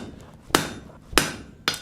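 A blacksmith's hammer striking flat stock on an anvil, forging it down to the hammer face's width: four bright, close metallic impacts, the last two in quick succession, each ringing briefly before the next.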